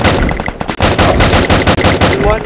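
Gunfire in a shooting video game: dense, loud automatic bursts with rapid repeated shots filling nearly the whole stretch, briefly broken by two short gaps, with voices faintly underneath.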